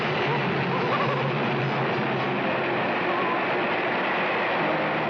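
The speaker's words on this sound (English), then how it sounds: "That train's coming for you" A train approaching in a movie scene, a steady, dense rumble that holds loud and constant throughout with no break.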